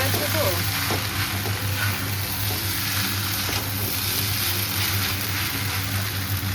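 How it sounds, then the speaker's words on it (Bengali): Chow mein fries in a pan with a generous amount of oil, giving a steady, close sizzle and crackle that holds for several seconds alongside a low constant hum. "আমি চাউমিনটা বানাচ্ছি। আজকে একটু চাউমিনে তেল বেশি দিয়েছি"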